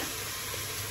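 Onion and garlic fry in a pot for Guyanese-style shine rice with salt fish, giving off a steady, close hiss of sizzling with no pauses.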